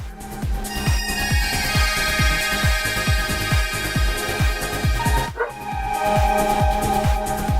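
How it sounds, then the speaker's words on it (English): Dog barking repeatedly in a quick, steady run of loud, close yaps, a high electronic tone sounding alongside and shifting partway through. "Who let the dog out? I know, my dog."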